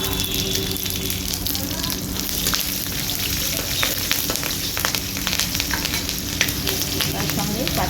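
Green chillies and five-spice seeds fry in hot oil with a loud, continuous close sizzle and scattered sharp crackles, while a voice speaks over it.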